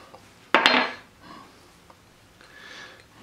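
Chopped garlic and mint tossed into a bowl of Greek yogurt, a single soft clattering knock of utensil against the bowl followed by quieter scraping, close and otherwise quiet.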